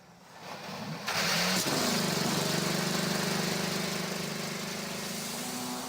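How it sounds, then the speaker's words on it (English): IndyCar race car engines fire up together at the start of the Children's of Alabama Indy Grand Prix with a sudden loud roar, then hold a steady, droning idle. "Drivers, start your engines."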